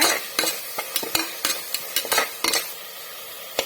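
Stirring a tomato mixture with chili powder in a pot, a quick run of sharp scraping and clinking spoon strokes over a constant frying hiss, close and without talk.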